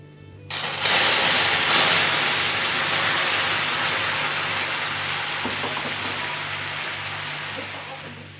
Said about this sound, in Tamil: இப்போ அப்படியே தண்ணி ஊற்றிடலாம்.